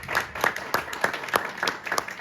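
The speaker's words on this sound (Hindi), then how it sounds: "हो गया आगे भरपूर तालियां जनाब" A few people clap at a prize day in a restaurant, sparse and fairly rhythmic claps about every third of a second, close and moderately loud with no talking over them.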